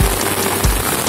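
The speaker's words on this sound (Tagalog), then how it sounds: "Lakas ng ulan kaya." Heavy rain pouring outdoors, a loud continuous hiss of drops on surfaces, with a couple of brief low thumps, close and with no talking.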